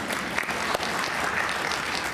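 An audience at a research symposium on fetal alcohol spectrum disorder gives a steady, moderately quiet wash of applause for a remark, with no break across the short stretch.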